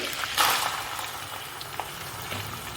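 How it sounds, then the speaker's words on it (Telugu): Chillies and onions frying in hot oil for a pepper chicken fry, giving a steady close sizzle with bursts of crackling and spitting, a louder flare near the start, and no talking. "ఈ ఆయిల్లో నాలుగైదు చిల్లీలు వేసేసుకుంటున్నాను ఇప్పుడు మనం ముందుగా కట్ చేసుకున్న ఆనియన్స్ కూడా వేసేసుకోవాలి"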